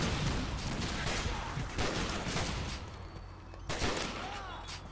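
Gunfire in the Call of Duty: Modern Warfare 3 video game on Wii: dense, loud bursts of rapid shots and explosions, continuous at first and then thinning into scattered blasts.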